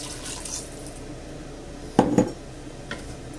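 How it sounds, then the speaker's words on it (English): Water goes into a pot of cubed potatoes and lentils in a home kitchen, with a muffled splash and clatter of the pot in the middle and a faint clink afterward over a steady background hiss. "And I'll just cover it all with some water."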